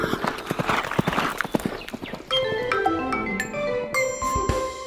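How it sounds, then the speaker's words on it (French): Horse hooves clip-clopping in a quick rhythmic series of sharp knocks, followed by tonal music-like sounds, close and fairly loud. "Fais le cheval gris qui galope la nuit."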